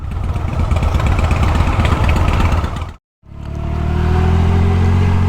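Motorcycle engine idling loud and close with a rough, steady rumble, briefly dropping to silence before the throbbing idle returns.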